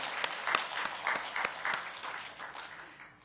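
A church congregation claps steadily for the choir, the applause gradually thinning and fading out.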